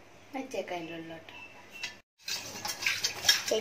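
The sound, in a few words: washing dishes, pots clinking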